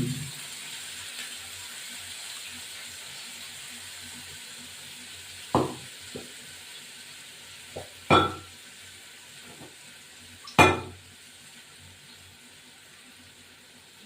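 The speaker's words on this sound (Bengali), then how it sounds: "এবার এই পেঁয়াজ রসুন এটা দিয়ে দেবো এটা দিয়ে দিলাম পেঁয়াজ রসুন আদা কাটাটা দিয়ে দিলাম" Onion, garlic and ginger fry in a pan for a goat liver curry, giving a soft, steady sizzle with a few sharp utensil clinks and stirring knocks.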